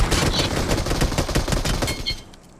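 Rapid loud automatic gunfire from the PUBG Mobile video game, dense overlapping shots rattling almost continuously for a couple of seconds before tailing off, with no talk.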